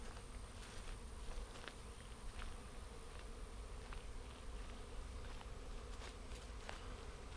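A swarm of honeybees buzzes steadily around a swarm trap mounted on a tree outdoors, a dense continuous drone with individual bees flying close past now and then.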